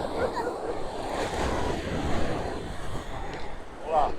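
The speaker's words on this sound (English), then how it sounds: "This is the beach." Surf washes onto Lloret de Mar beach on the Costa Brava, a continuous wash of breaking waves mixed with wind noise against the microphone, with faint voices in the background.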